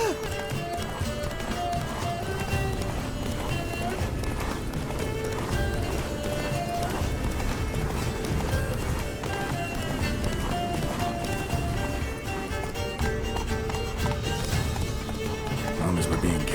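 Roach, the horse in The Witcher 3: Wild Hunt, gallops hard with steady rhythmic hoofbeats under a dense wash of game music and effects, loud and continuous throughout, with voices talking now and then.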